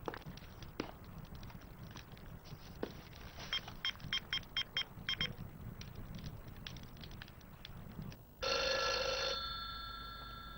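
Background clatter and faint knocking give way to a telephone ringing loudly and close by, one sustained electronic ring that fades slightly at the end.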